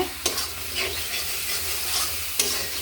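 Spice masala fries in a pan while being stirred, a close sizzle broken by a few sharp spoon scrapes and knocks against the pan, no speech.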